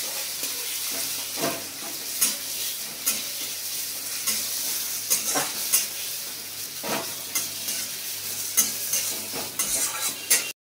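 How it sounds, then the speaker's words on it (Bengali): Onions fry in white oil and ghee in a pan: a loud, continuous close sizzle with regular stirring scrapes and clinks throughout. "পেঁয়াজটা লাল লাল করে আমি ভেজে নেব"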